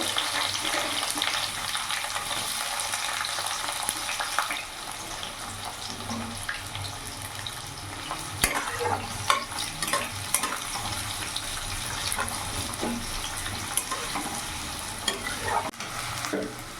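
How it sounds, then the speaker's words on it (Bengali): Chopped onion frying in hot oil with whole cinnamon, cloves, cardamom and peppercorns makes a continuous close sizzle, with stirring scrapes and occasional clinks of a spoon against the pan. "ফোড়নটা ভাজা হয়ে গেছে, এরই মধ্যে কুচনো পেঁয়াজ দিয়ে দেবো।"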